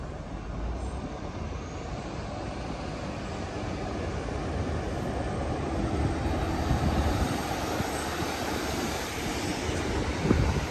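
A steady, broad rumbling roar of a train passing nearby, holding constant throughout with no talking.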